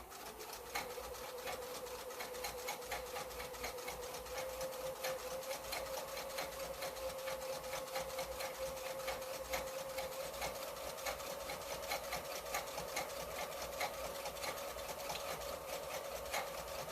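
A sewing machine runs continuously while top stitching a fabric face mask, giving a steady close rapid whirring stitch rhythm with a constant motor tone throughout.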